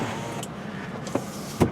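Power windows on a 1998 Lexus LS 400 close with a low motor whir, punctuated by a few soft clunks as the glass seals shut, heard from inside the quiet cabin.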